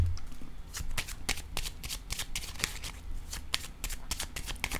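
Playing cards are handled, shuffled and laid down close up, giving a steady stream of crisp flicks, riffles and soft taps throughout, with no voice over them.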